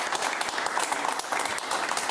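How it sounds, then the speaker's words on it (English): Studio audience on a talk show breaks into a continuous round of applause, dense and even throughout the brief stretch, with no talking over it. "Big round of applause, please."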